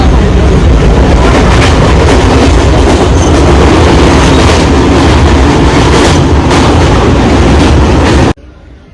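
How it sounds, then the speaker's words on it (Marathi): Loud, steady rumble of a MEMU train rolling along the rails between Vasai Road and Diva, with continuous rattling and clatter, cutting off abruptly at the end. "आत्ता बरोबर अकरा मिनिटांनी ट्रेन कोपर स्टेशनला पोहोचली आहे"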